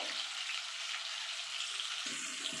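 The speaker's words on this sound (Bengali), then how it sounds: "টমেটো একটু নাড়াচাড়া করে নিয়েছি" Tomatoes frying in oil while being stirred in a pan for a spicy khoira fish curry, a steady bright sizzle throughout with a low scraping stir near the end.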